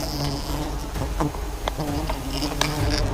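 Wild honeybees swarm around massive single-comb nests hanging in the open from high branches of a giant tree, making a dense, continuous buzzing that is loud and close, with individual bees whizzing past.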